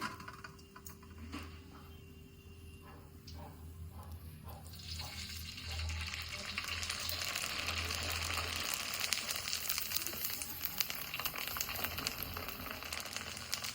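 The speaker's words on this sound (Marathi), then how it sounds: "ह्या सगळ्या कुरोड्या तळून घ्यायच्या" Kurdai (kurodi) frying in hot oil at home, a steady sizzle that grows louder and denser partway through and then holds as continuous crackling.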